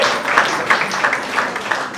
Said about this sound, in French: Pour applaudir pour la parole de Dieu.